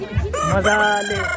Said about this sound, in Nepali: भाले पनि कराइरहेको छ,